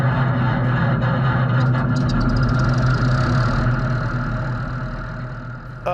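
A 1950 Farmall H tractor engine runs with a steady, loud low throb and chugging idle, continuous throughout and easing slightly toward the end.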